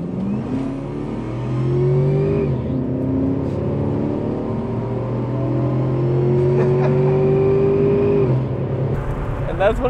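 A Volvo 240 fitted with a Cobra engine accelerates hard onto a freeway, heard from inside. The engine revs climb through several gear changes, with loud, rising whine and rumble throughout.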